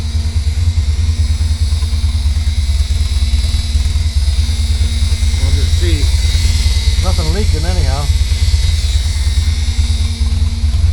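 A 1979 Porsche 924 engine runs at a loud, steady idle close by, a constant low rumble filling the whole stretch while someone talks over it.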